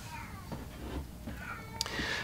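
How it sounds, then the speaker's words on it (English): A cat meows indoors, a few soft, faint calls with a brief higher squeak near the end, over low room noise. "You've seen the other cat, Pudgy."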